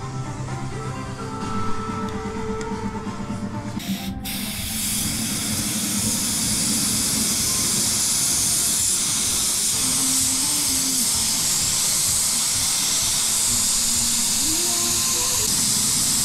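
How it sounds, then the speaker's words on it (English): A spray gun lays down polyester spray filler with a loud, continuous hiss that builds after a few seconds of light clatter and then holds steady to the end, with no talking. "so you do have to be careful with this polyester spray filler"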